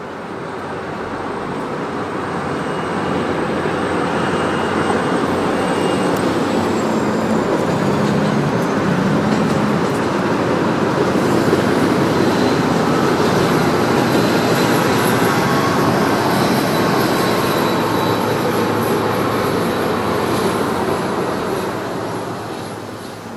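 Freight train hauling 18 cars on a morning yard transfer at a busy Philadelphia rail junction, a loud continuous rumble and rail roar that swells gradually and then eases at the end, with no voices.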